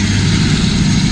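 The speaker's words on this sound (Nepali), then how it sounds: "हाम्रो हेलिकप्टर भर्खर आएको छ" A helicopter that has just arrived for a ride in the Annapurna region of Nepal runs its engine close by, producing a loud, steady low drone with no break and no voices.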